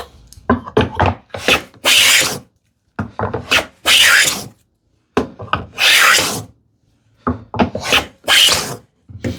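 Hand plane stroked along a wooden board for a desktop organizer: a series of loud, close rasping passes in quick bursts, separated by short silences.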